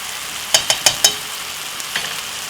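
Jerk beef mince is stirred in a sizzling pan, with four quick scraping strokes in a row over a steady frying hiss, then a couple of fainter scrapes.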